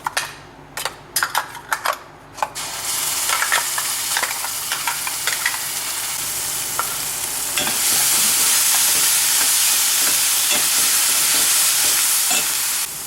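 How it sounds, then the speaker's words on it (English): Ground masala dropped into a hot curry-leaf tempering for egg curry, starting with a few sharp clatters, then a loud, steady sizzle and hiss of frying with stirring scrapes, swelling even louder partway through. "I'm going to add the masala that I've ground"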